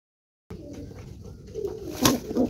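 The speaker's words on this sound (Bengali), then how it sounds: "পায়রাগুলো এখানে চলে এসছে।" Pigeons in a backyard loft coo in soft, repeated low calls, with a louder burst near the end, and no voices present.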